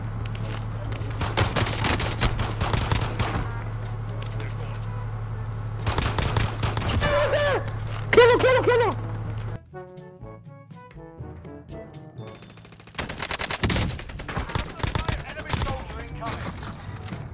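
Call of Duty Warzone gunfire arrives in loud, close clusters of rapid shots separated by short gaps, with a quieter stretch in the middle before another heavy burst, alongside some in-game tones.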